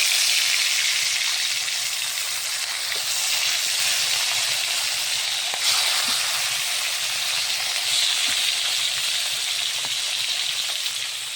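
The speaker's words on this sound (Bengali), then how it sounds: "মাছগুলো সুন্দরভাবে ভেজে দিলাম।" Fish, some cut into pieces and some medium ones left whole, frying in a pan with a steady, dense sizzle and hiss that holds at an even level from start to finish, with no talking.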